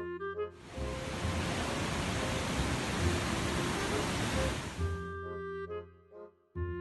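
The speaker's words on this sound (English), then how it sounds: "Waterfall." A waterfall pours in a dense, even rushing roar for roughly four seconds, bracketed by light musical tones before and after.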